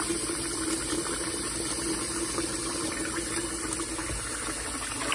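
Cold water runs steadily from a tap onto boiled eggs in a kitchen, making a continuous close splashing rush with no talk over it.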